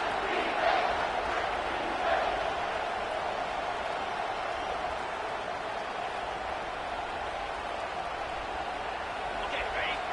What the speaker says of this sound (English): Third down, and this crowd will blow out a vocal cord to help this defense